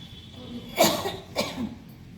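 Two short, sharp coughs about half a second apart, fairly close, with a quiet room behind them.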